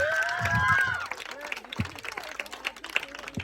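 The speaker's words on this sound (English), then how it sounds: "So give a big round of applause for her." Scattered clapping from a school audience at a student farewell event, brief and fairly light, with voices talking over it.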